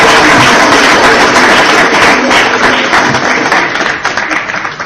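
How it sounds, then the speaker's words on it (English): Audience applause for Dr. Africa at a comedy debate event, steady and dense throughout, slowly thinning toward the end. "Give him a round of applause."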